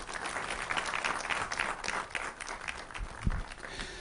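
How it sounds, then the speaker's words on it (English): An audience at a Media General news lecture claps to welcome a speaker, a dense, sustained round of applause rising and dipping over a few seconds, with a louder thump near the end. "shall we, with a round of applause, welcome the GM in charge of News of Media General, Joseph Warungu"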